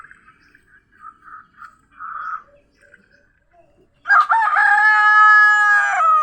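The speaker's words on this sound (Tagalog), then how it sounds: "Tuka muna tayo ng mga manok." Soft clucking and scattered bird noises at first, then a loud, close rooster crow with harmonics fills the last two seconds.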